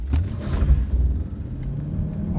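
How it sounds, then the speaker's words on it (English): A V8 car engine accelerates uphill from the bottom of a hill, a steady low rumble and growl rising in drive, heard from inside the car without talk. "You can hear that V8 cranking up."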